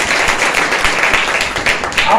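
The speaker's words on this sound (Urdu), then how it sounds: "زوردار تالیاں لگاؤ" An audience at a Good Friday sermon breaks into steady, dense clapping that carries on the whole time, loud and close.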